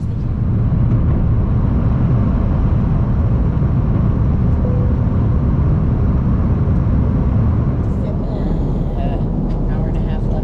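Steady low-pitched roar of an airliner cabin on a Delta flight, a constant broadband drone filling the whole stretch, with faint voices and small rustles near the end.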